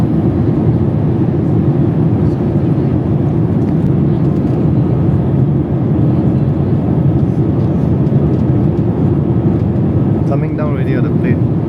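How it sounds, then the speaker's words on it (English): Steady, loud cabin drone inside a passenger plane descending on a flight from Singapore Changi to Guangzhou Baiyun, a dense low roar filling the whole stretch with little change. "Coming down already on the plane."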